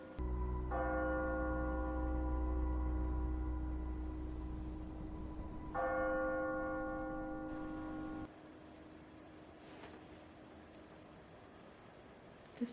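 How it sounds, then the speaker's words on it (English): A church bell tolls twice, each deep ringing strike hanging and slowly fading, steady and moderately distant, then the ringing cuts off into quiet room noise. "As if that bell tolling isn't ominous."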